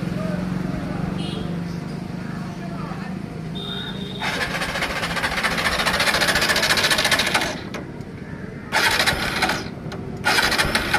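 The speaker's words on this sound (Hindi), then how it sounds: "तो दोस्तों बाइक जो है स्टार्ट नहीं हो रही है" A TVS Apache motorcycle's electric self-starter whirs and cranks in several bursts, each several seconds long, with a grinding buzz that never catches into a running engine; the bursts sound close and loud.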